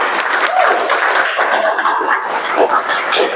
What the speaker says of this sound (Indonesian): sebelum pertanyaan kita aplaus dulu